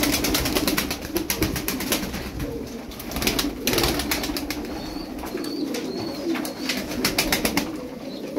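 Budgerigars in a bird shop keep up a dense, continuous chatter of chirps and warbles nearby, with fluttering and quick sharp calls throughout.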